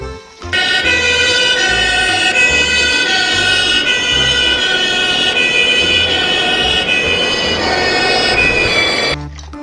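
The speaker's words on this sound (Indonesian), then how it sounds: "Yang satu ini mobil damkar, mobil pemadam kebakaran teman-teman." A fire truck siren wails loudly and steadily for several seconds, close and unbroken, with a low rumbling undertone and no voices.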